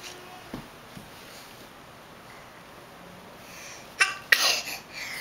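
Quiet room tone, then a short sharp sneeze near the end, close and sudden, followed by a brief snuffle.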